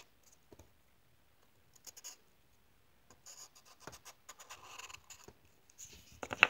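Pencil or crayon sketching a spiral on paper, starting with sparse faint scratches and turning into denser, continuous scribbling strokes, close and quiet, with no voices.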